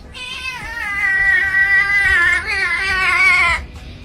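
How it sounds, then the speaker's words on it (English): A cat gives one long, loud, wavering meow lasting several seconds, close to the microphone and mostly alone, ending abruptly. "Hey, you see the racist cat?"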